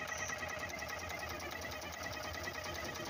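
A steady, loud common-rail diesel engine in a Tata Ace Mega XL with a smoke problem idles with a continuous rattling drone and fast mechanical clatter, no pauses throughout.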